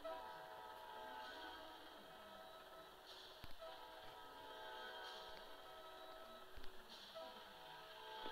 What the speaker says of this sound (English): We got a train coming. Train coming.